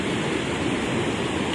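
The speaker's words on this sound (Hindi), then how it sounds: "ये सारा ग्लेशियर का पानी होता है जो आके दरियाओं में शामिल हो जाता है" A rushing mountain river swollen with glacier meltwater roars as a loud, steady, broadband wash of churning water, close and continuous with no voices over it.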